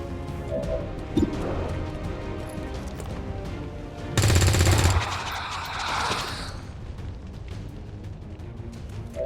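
Gunfire in the video game XCOM 2, with a loud burst of automatic fire in the middle surrounded by quieter battle ambience and scattered impacts.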